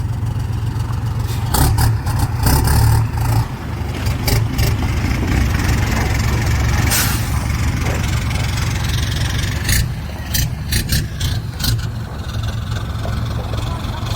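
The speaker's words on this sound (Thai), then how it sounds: "เสียงท่อไอเสียงนี้แรปดีมากเลยนะ สามหกรีแมปครับ" A remapped engine idles loud and close with a rough, steady low rumble and a few brief blips of revving, with people talking nearby.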